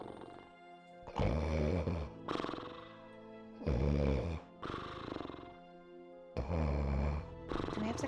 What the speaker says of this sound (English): Bro is snoring so loud.